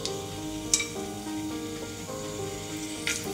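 Steady sizzling of paneer frying in a hot pan, with a couple of soft clinks from a utensil against the pan.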